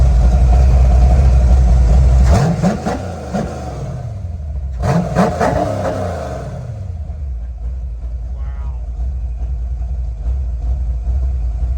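A GT40 replica car fitted with a changed induction system revs sharply twice, loud and close, then settles into a deep, steady rumbling idle.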